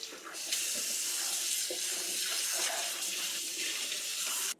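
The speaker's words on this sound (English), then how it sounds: "And so I'm gonna rinse this gel off." Tap water running steadily over seeds as gel is rinsed off them, a soft, even hiss and splash that starts and stops cleanly, nearby and fairly quiet.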